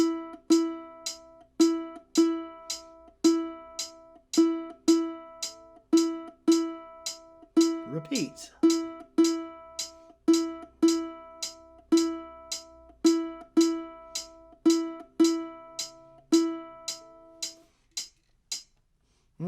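Ukulele plucking a simple beginner exercise, about twenty evenly spaced single notes in a steady slow rhythm, clear and close, with one word spoken partway through.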